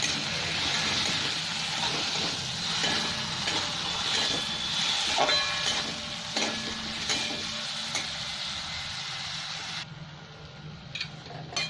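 Spices, onion, chilli and grated tomato fry in a pan for a Bengali bhola fish curry masala, with turmeric, chilli powder, coriander and cumin powders and salt. A steady, fairly loud sizzle runs throughout, with occasional stirring scrapes, and no talk.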